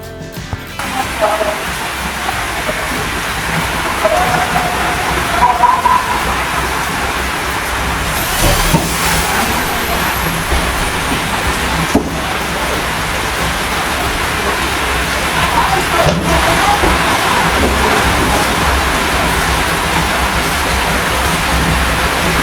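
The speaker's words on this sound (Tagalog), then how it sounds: "Ayan, ulan na naman." Steady broadband hiss of rain falling, continuous and fairly loud throughout, with a faint hum of passing traffic underneath.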